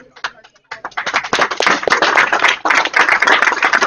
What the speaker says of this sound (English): You'll hear some applause in a few moments